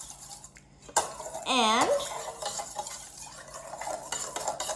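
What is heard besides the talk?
whisking activated yeast mixture in a bowl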